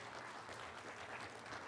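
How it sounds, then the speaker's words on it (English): Conference audience at an annual keynote breaks into steady applause, a continuous wash of many hands clapping, heard at a distance and fairly quiet. "Yeah, you can clap. You can clap."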